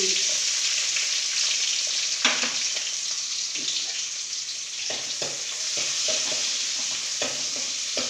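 Cumin seeds and spice powder sizzle in hot oil in a pan, a steady close crackling hiss broken by occasional scraping stirs.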